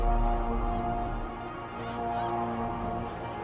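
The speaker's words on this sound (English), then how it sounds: "a flock of thousands of snow geese form a massive moving cloud above us" A massive flock of thousands of snow geese honking overhead in Delmarva, a dense continuous chorus of overlapping calls, loud and sustained with no talk.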